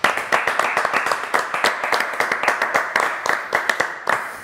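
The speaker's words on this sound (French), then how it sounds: "On va l'applaudir quand même." A studio audience claps in a quick, fairly even rhythm, close and loud, a steady run of individual hand claps lasting a few seconds.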